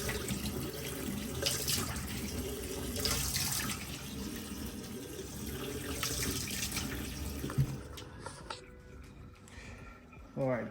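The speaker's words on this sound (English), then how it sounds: "I've just given a good rinse to my apple" A kitchen tap runs steadily for about eight seconds while an apple is rinsed, then shuts off, leaving a few soft clatters and quieter room sounds.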